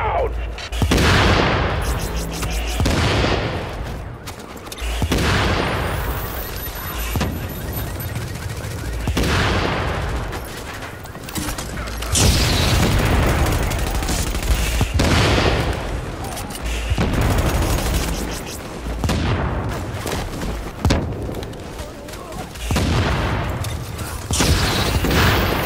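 Sustained gunfire fills a shootout against mortars in Tom Clancy's The Division, with dense bursts and booming blasts coming in repeated loud waves that never let up, and voices shouting now and then under the noise.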